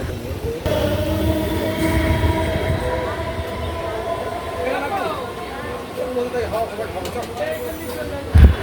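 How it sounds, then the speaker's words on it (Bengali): A passenger train pulls into Garifa railway station on the Bandel to Naihati line, a steady rumbling roll with squealing wheels and rail noise throughout, close and loud, with a voice speaking over it and a thump near the end. "আমাদের ট্রেন পৌঁছালো গরিফা রেলওয়ে স্টেশন"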